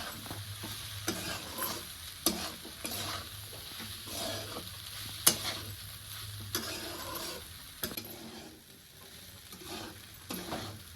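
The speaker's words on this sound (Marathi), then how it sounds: "आता पोहे मिक्स करून घेतो" Vatana poha with turmeric, salt and chopped coriander being stirred in a pan, repeated scraping strokes over a faint low sizzle, quiet and close, with occasional light clinks.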